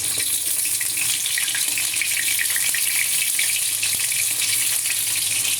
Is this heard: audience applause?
no